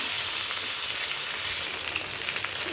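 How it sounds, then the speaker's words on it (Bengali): Cut potatoes and pointed gourd fry in oil left over from frying fish, giving a close, steady sizzle with small crackles and occasional stirring throughout. "ওই তেলে আমি কাটানো আলু পটল দিয়ে দিলাম আলু পটলটাকে আগে ভেজে নিব"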